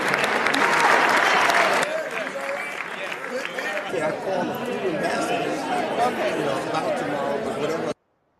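Applause fills the State of the Union chamber, a loud burst of clapping that dips after a couple of seconds and carries on more softly, with crowd murmur and scattered voices mixed in, until it cuts off abruptly.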